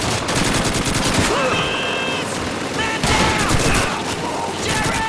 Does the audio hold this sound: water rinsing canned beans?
no